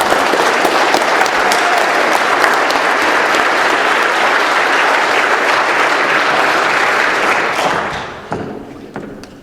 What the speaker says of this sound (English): So if we could give a warm round of applause for Jake.